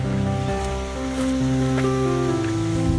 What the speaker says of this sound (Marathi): हा वॉटरफॉल आहे.